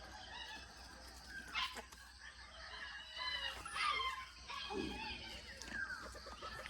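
Chickens cluck and call on a farm, scattered bursts of fowl noise at moderate distance over a faint background, with a low murmur of voices and a possible dog in the mix.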